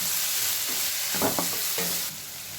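Capsicum sautés with masala in a pan for peas pasta: a continuous close sizzle broken by a few quick spatula scrapes and taps, no talking.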